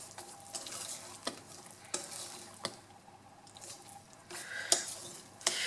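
Caramelized apples being stirred in a bowl, quiet scraping and wet sloshing strokes with a few sharp utensil clinks against the side, close and fairly soft, no talk.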